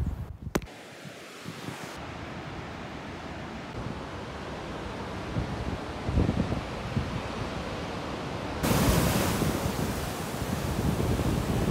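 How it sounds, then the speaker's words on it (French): Ocean waves break loudly and continuously on the shore at Tenerife, a steady roaring wash with wind buffeting the microphone and a surge swelling louder toward the end; no voices. "le bruit des vagues est fort"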